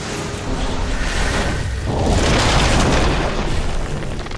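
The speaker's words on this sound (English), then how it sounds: "Dire's bottom tower is under attack." A tower under attack in a Dota 2 match: loud, dense battle noise with booming impacts and whooshes running steadily throughout, without pause.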